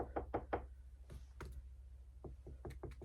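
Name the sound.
knocking on an IKEA shelf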